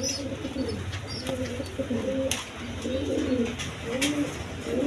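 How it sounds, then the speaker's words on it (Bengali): Pigeons with feathered feet coo repeatedly at a pigeon sale, a close chorus of low, throaty rolling calls in overlapping bursts over a busy background hum. "এই দেখেন কবুতর দেখার মতো কবুতর, মোজা পাওয়ালা"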